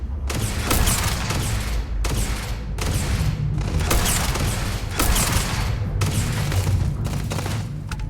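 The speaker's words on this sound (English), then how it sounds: "I think that thing's shooting at me." Sustained gunfire and explosive blasts from the video game Starfield, with dense, rolling volleys and booming impacts that continue loudly throughout, no talking over them.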